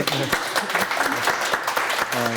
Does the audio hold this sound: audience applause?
yes